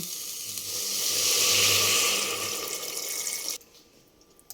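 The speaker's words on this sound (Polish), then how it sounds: "Warzywa się już trochę podsmażyły. Należy zalać je wodą." Water poured from a container onto lightly fried vegetables in a cooking pot in a home kitchen, a steady loud rushing pour that swells and then stops abruptly, leaving quiet kitchen background.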